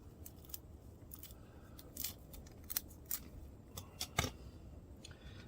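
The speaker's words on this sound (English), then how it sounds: "Just going to divide it. I'm going to use my scissors." A few sharp, quiet snips from scissors cutting the roots of a resurrection plant, spaced irregularly over a soft background hiss, with one crisper cut near the end.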